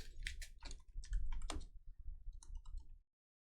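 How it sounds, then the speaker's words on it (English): Typing on a computer keyboard during a football card box break, a quick run of close, crisp key clicks and clatter lasting a few seconds before stopping abruptly. "I think he's typing in his name."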